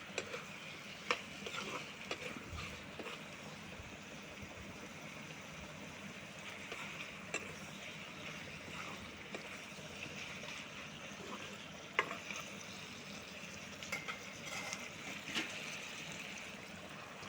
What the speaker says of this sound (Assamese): ভালকৈ ভাজি ল'ব, কাৰণ ছাগলীৰ মাংসটো বহুত তেল হয়